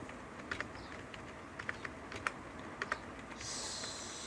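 Soft, irregular keystrokes clatter on a computer keyboard while HTML anchor-tag text is entered, a quiet close-up tapping run with a few sharper clicks and a brief hiss near the end.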